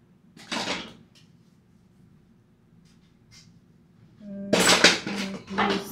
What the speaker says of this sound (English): Right, and I'm gonna stir it.